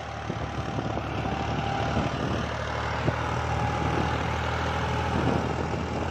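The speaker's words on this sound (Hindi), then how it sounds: "अब ये ट्रैक्टर नहीं चल पा रहा" A tractor engine running without a turbo labours under load, a loud, steady, unbroken drone that holds for the whole stretch.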